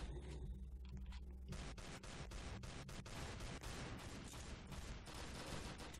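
Rapid, dense gunfire from shooting people in the Roblox game: loud, overlapping bursts of shots begin after a quieter opening second and continue without a break to the end, with no talking.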